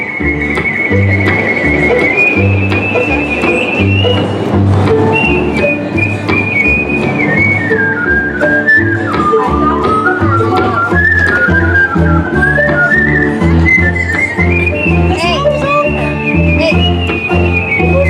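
Someone whistles a lively melody alone at a live hillbilly band show at Knott's, the clear tone sliding up and down over a steady rhythmic backing with a low thumping beat.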